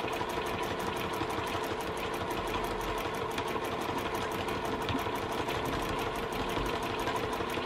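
A home sewing machine runs steadily through free motion quilting around a flower design, its needle hammering in a fast, even rhythm, close and continuous without a break, with no talking.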